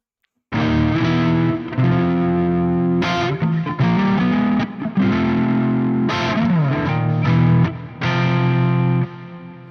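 Electric guitar on the neck pickup playing a song through a chorus-style effect, its sustained chords and melodic phrases loud and close after a brief silent start, with no talking.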